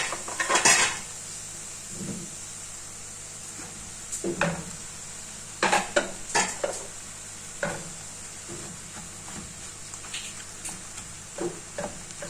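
Minced meat dropped into a pan and pressed and stirred with a utensil, for briouate filling: scattered scraping and clinking knocks of metal on cookware over a faint steady sizzle, with quiet gaps between strokes.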